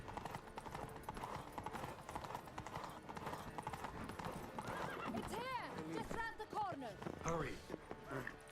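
A horse's hooves clip-clop in a steady gallop in a video game, running low on stamina, with repeated whinnies and neighs rising near the end, all under continuous talk and background game audio.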